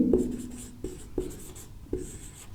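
Chalk or marker writing on a board during a Class 12 chemistry lesson on solutions: short scratchy strokes in several separate bursts with pauses between them, close by and fairly quiet, with no talk over them.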